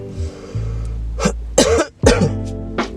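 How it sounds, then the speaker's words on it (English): A man coughs and clears his throat several times in quick succession, close and loud, over a low steady hum, with short gaps between the harsh bursts. "I probably coughed everywhere"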